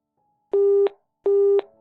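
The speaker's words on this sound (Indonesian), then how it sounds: "Aileen menghubungi ponsel Kafan berulang kali, nada dering terus berdering tetapi tak ada sahutan" Two long, steady electronic ringback tones from an unanswered phone call, each lasting about a third of a second and separated by a short gap, with a clear and fairly loud sound and no voices.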